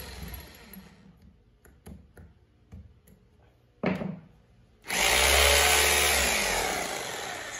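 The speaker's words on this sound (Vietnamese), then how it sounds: "Đây là khoan bê tông này." An electric 220 V concrete drill sits through a few clicks and a brief whirr, then runs at full speed in a loud, steady, high-pitched whine that eases slightly toward the end.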